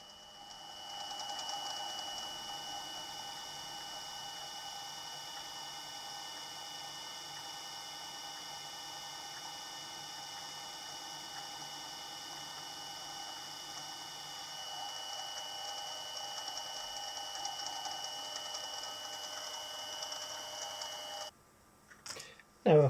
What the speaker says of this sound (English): Finally we go in with the 1/4 inch reamer.